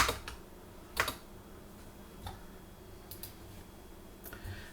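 Sparse computer keyboard keystrokes, faint and scattered, with a few louder clustered clicks and long quiet gaps between them.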